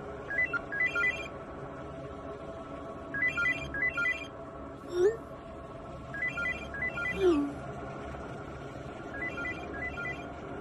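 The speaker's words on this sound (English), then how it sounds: "the phone started ringing." A telephone rings in repeated bursts, several electronic trills spaced evenly over steady background sound, fairly close and clear.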